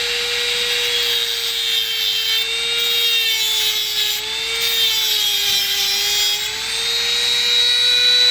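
A Dremel rotary tool spins at high RPM while cutting into amethyst rock, making a loud, continuous high-pitched whine with a gritty grinding rasp throughout and only slight wavers in pitch.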